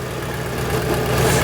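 A Subaru GC8 Impreza, fitted with a swapped-in power steering pump, idles steadily with a low, even rumble, close and moderately loud with no voices.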